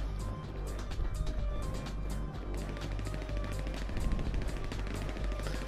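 Rapid bursts of gunfire from a weapon in GTA 5 Online, sharp shots repeating over a dense, busy game background with steady loudness throughout.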